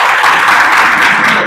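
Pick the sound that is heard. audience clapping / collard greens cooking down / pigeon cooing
audience clapping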